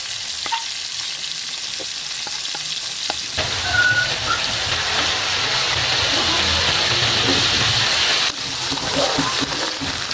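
Tofu fries in butter in a pan, a loud close hiss and sizzle that swells suddenly after a few quiet ticks and stays strong until it briefly drops near the end.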